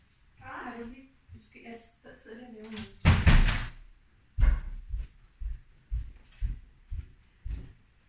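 A door shuts with a loud thump partway through, followed by a series of softer knocks and thuds, while someone talks before it.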